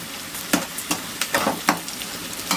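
Onions sauté in hot oil for a mutton liver fry, a continuous close sizzle broken by regular scraping stirs of a spatula against the pan.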